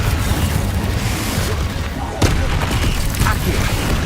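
Confringo fire spells explode in Hogwarts Legacy, a dense, loud wash of booming blasts and crackle that runs throughout, with one sharp burst standing out partway through.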